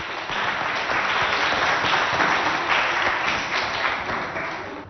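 Crowd applause greets a student from La Renaissance school, Abéché, Chad, stepping up to sing the national anthem: broad, continuous clapping from a sizable audience, steady and fairly distant, swelling slightly in the middle.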